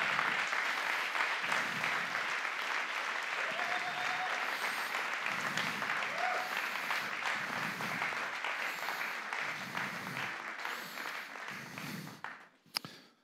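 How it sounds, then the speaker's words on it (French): A church congregation applauds its ministry team with sustained, even clapping that gradually thins and tapers off near the end. "Je crois qu'on peut juste aussi les applaudir pour leur engagement."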